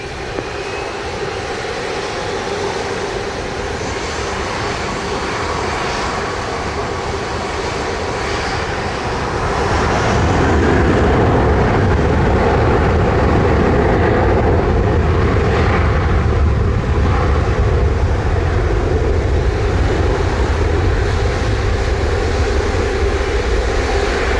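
JetBlue airliner taking off from runway 07 at Montego Bay, Jamaica: a continuous jet roar that swells noticeably about halfway through as the thrust builds, heard from the airport side with no talking.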